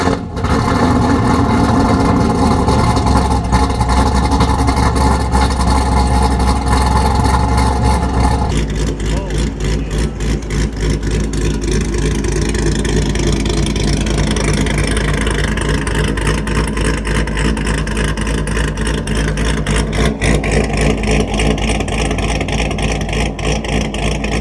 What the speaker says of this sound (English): you want to have a loud LS1 V8